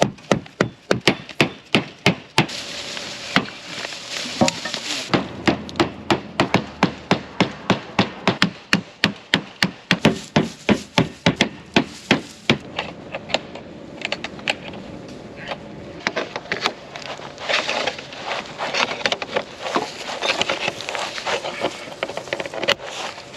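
Repeated sharp hammer strikes on a farm ring out in quick, steady bursts, loud and close, with brief pauses before a rougher stretch of scraping and knocking.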